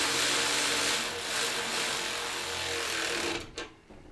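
An electric ratchet snugs a bolt on a Honda water pump, giving a continuous gritty whirring drive that stops abruptly near the end, followed by a short clack.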